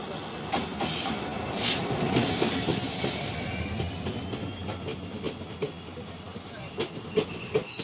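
An election special train passes through a station in Assam, producing a continuous rumble with rhythmic clickety-clack wheel beats and faint squeals, heard steadily from a waiting train at the platform.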